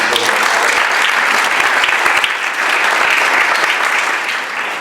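Sustained applause from an audience at a Republican Women Federated candidates night in Camarillo, a steady dense wash of clapping honoring a candidate, loud and continuous throughout with no talk over it.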